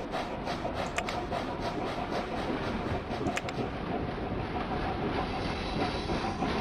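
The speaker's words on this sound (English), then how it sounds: "How are my coal trains doing?" Coal train rolling along rails in the simulation game Locomotion, a steady rumbling run with rhythmic clickety-clack wheel beats and a faint hiss, continuous and moderately loud with no talking.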